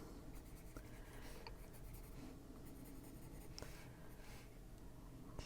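A colored pencil scratches steadily across paper, coloring in a mushroom drawing with close, soft, continuous strokes and occasional small taps, faint and with no talk.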